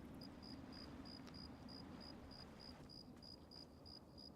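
Crickets in a video game's nighttime outdoor setting chirp in a fast, regular pulse of short bursts, faint and steady over a soft background hiss.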